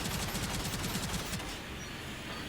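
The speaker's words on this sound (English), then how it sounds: "if I just keep shooting and holding it down, eventually it does overheat" A double Gatling gun fires in a Gundam Heavyarms Custom video game, a rapid continuous stream of dense low thudding shots that cuts off after about a second and a half, leaving a steady roar.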